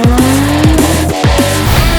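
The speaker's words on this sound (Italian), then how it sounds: "Lotus Emira, la V6 manuale, hot lap, seconda marcia" Lotus Emira with a V6 and manual gearbox on a hot lap, the engine loud and close, revving hard through repeated sharp gear changes and throttle blips.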